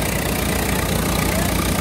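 A Swaraj 855FE 55 HP tractor runs on a wet, soft field, its engine giving a steady, dense, continuous rumble with no breaks.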